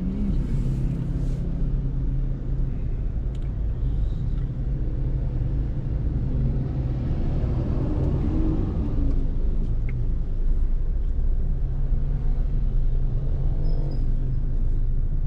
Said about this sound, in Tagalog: Guys, grabe ang traffic din dito sa Baknotan